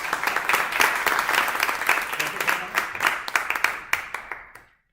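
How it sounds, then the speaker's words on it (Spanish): A church congregation claps loudly for the preacher, a dense burst of applause that tapers and fades out near the end. "Recibámoslo con un fuerte aplauso"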